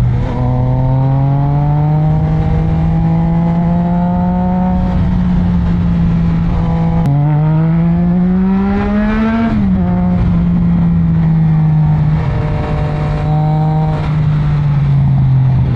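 Triumph Trident 660 three-cylinder motorcycle ridden in third gear, its engine droning steadily close by with rising and falling pitch as the throttle eases on and off, loud and continuous without speech.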